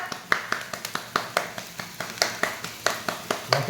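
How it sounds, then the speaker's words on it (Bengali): Rhythmic hand clapping at a family birthday celebration with cake, a steady run of crisp claps close by, about four or five per second, with a few voices faintly underneath. "হাততালি দাও, হাততালি দাও।"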